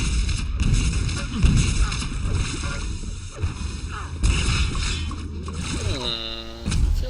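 Railgun shots and game effects from a Quake match at the IEM 2011 semi-final, a dense, loud mix of sharp blasts and whooshes running the whole stretch, with a rising sweep near the end.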